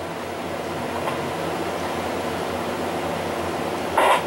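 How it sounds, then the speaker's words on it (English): A train rolls past in Grand Theft Auto San Andreas, a steady loud rumble with rail hiss through the whole stretch and a brief rise in noise near the end. "Follow that train!"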